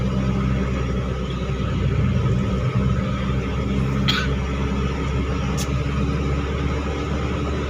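Heavy road traffic in the Philippines, a constant deep engine rumble from nearby vehicles with a couple of brief higher squeaks over it, no talking.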